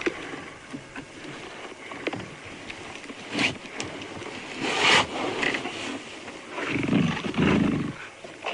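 Male lions growl and snarl low while feeding on a young warthog carcass, with crunching bone and scraping between irregular bursts of rumbling noise. The animals sound moderately close, and no one speaks.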